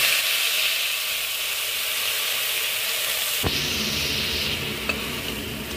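Ground onion paste fries lightly in hot oil with a bay leaf and a little cumin, giving a continuous close sizzle and hiss, which grows briefly louder as something is stirred in partway through.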